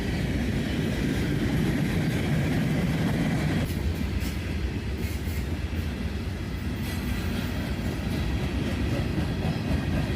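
Freight train of black center beam cars rolls steadily past close by, a continuous loud rumble of wheels and clatter with no voices.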